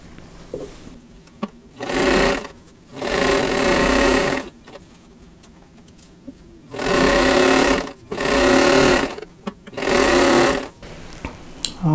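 A sewing machine stitches a sawtooth star quilt block in five loud bursts of steady whirring, each lasting one to two seconds, separated by short quiet pauses with small handling clicks.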